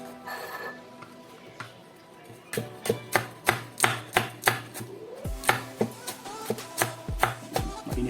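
Spring onion and long chili chopped on a board with a knife, a brisk series of sharp, evenly spaced close knocks following a few quieter scattered taps.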